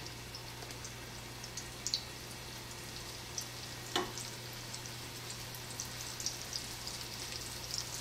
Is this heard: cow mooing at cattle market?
no